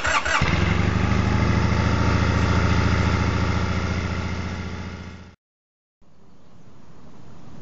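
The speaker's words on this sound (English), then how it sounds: "And then you just pull the clutch in, and the standard" A 2010 Triumph Bonneville motorcycle engine cranks and fires, then settles into a loud, steady idle for about five seconds before cutting off abruptly; low rumble resumes faintly after a short silence.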